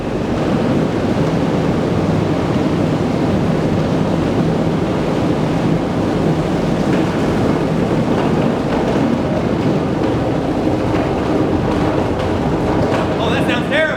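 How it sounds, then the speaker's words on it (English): A loud, constant roar of water rushing through a hydroelectric turbine inside Greers Ferry Dam, a dense rumbling wash that never lets up and stays close throughout. "I promise that's water moving through the turbine."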